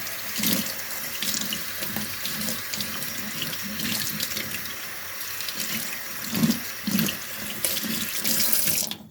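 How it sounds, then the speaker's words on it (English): Steady running cold tap water splashes into a sink, with intermittent bumps and swishes as vegetables are rinsed under the stream; no voices. "run them under cold water to rinse them"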